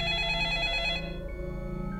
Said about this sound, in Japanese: 電話機が冷たくなり響いた。